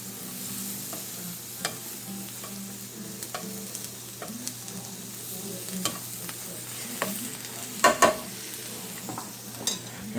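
Shrimp sizzle and fry in a hot pan without oil, a steady close crackling hiss with occasional utensil clinks and scraping, including a sharper clatter near the end.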